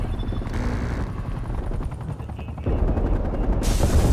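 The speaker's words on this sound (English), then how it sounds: "Hostile attack helicopter inbound." Attack helicopter in the Call of Duty Black Ops Cold War video game, a loud rotor thrum with bursts of gunfire layered on top, the helicopter beating steadily close by and growing louder and brighter toward the end.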